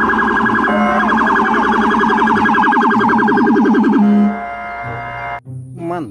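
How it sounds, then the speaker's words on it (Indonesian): A toy police car siren blares a loud, rapid warbling electronic wail close by, repeating steadily for about four seconds before switching to a lower tone and stopping. "Mobil polisi."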